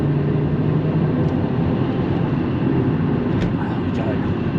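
A Volvo 850 GLT inline-five engine pulls hard in third gear, a dense, loud droning roar held steady over a few seconds of acceleration.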